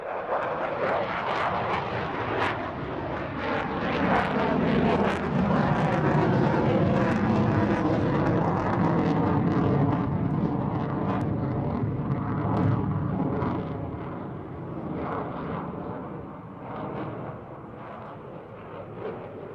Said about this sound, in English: ably demonstrating the carefree handling abilities of the aircraft in a dirty configuration barrel roll